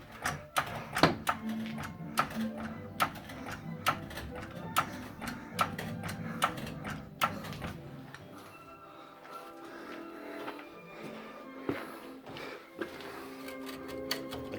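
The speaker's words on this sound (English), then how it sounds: "so jacking the chassis up" Mechanical clicks and ratcheting taps from a jack working under a 1990 Range Rover two-door chassis, sharp irregular ticks over a low hum, busier in the first half and sparser later.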